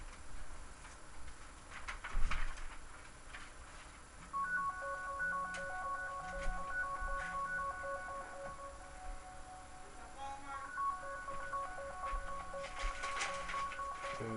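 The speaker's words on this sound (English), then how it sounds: "And sorry about the phone." A phone rings or buzzes in a room with repeated electronic tones and pulsing beeps for several seconds, alone with no talk.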